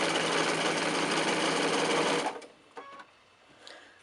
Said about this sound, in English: And so then I sew to the side of my charm squares, of my finished units.